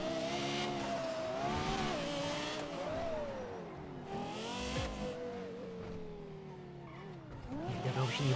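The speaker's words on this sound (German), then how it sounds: "Eigentlich unauffällig, das Auto ist lauter als Dinger." A car engine in a video game drives and revs with rising and falling pitch sweeps, some tire squeal and skidding, loud and continuous throughout with no talk over it.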